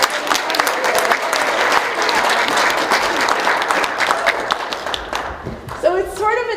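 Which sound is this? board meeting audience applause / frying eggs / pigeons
board meeting audience applause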